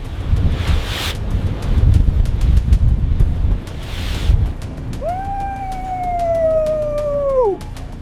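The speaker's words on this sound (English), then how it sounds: "the wind is rising" Strong gusts of a rising gale buffet an exposed lighthouse construction site among waves, with loud roaring bursts of wind noise, followed by a clear rising and falling whistle-like tone near the end.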